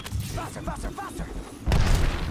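Gunfire in a team shooter video game, a burst of heavy booming shots near the end following rapid muffled pops, fairly loud against a busy game soundscape.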